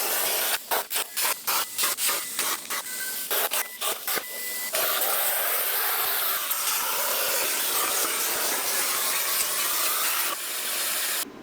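A cutting torch fitted with a new tip and nozzle slices through sheet metal, with a string of sharp sputtering bursts followed by a loud, steady hissing roar lasting several seconds.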